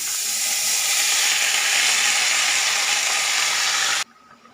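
Red amaranth greens (lal shak) drop into hot oil seasoned with a pinch of asafoetida over a low gas flame, giving a loud, steady, close hiss for about four seconds before it cuts off abruptly.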